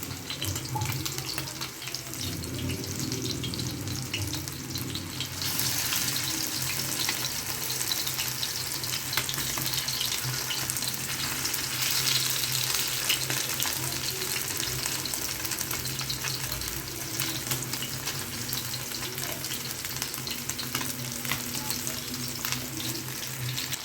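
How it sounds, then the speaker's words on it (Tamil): Nethili anchovy fish fry cooking in a pan, a steady close sizzle of frying oil running throughout with occasional soft stirring and pan movement, no talking. "இன்னொரு பக்கம் திருப்பி போட்டாச்சு, வேகட்டும்"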